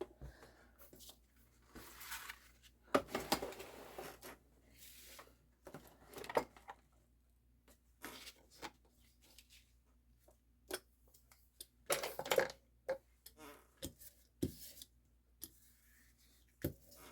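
A paint brayer rolls colour over a file folder for art journal collage work. Scattered rolling and tacky scraping passes come in uneven bursts with small taps between them, fairly quiet and close, with no voice.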